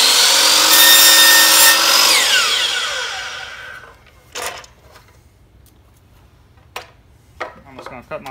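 Miter saw set to 22.5 degrees slicing a piece of baseboard in half, a loud close whining cut that winds down over a few seconds, followed by scattered clunks and knocks.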